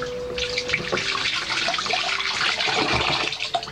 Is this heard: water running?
yes